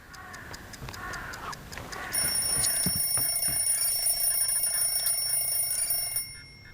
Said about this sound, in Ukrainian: Беремо будильник та закидуємо його у вікно.